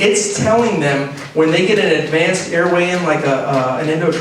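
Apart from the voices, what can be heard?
No everyday noise stands out behind the speech.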